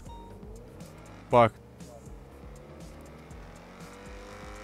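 Car in GTA 5 revving with a brief sharp tire squeal partway through, over a low engine drone; someone talks around it.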